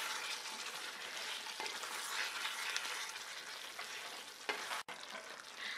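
Chicken fries and sizzles steadily in a hot pan for bhuna chicken while a utensil stirs and scrapes through it, with a sharp clack near the end.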